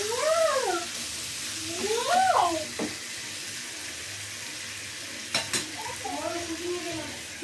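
Rui fish and tomato fry and sizzle softly in a pan, with occasional clinks of cookware. Several whiny, cat-like cries rise and fall over the frying.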